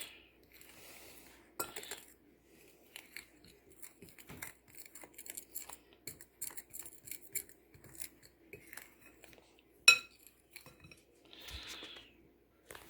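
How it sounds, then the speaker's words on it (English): Spoon or utensil stirring cheese into bread dough in a bowl, sparse scraping and clinking taps with occasional louder knocks against the bowl, close and quiet. "we'll just stir that all in"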